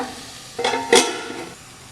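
Okra (ladies finger) frying in a pan, a soft sizzle with a couple of quick stirring scrapes of a spatula against the pan, close up and without speech.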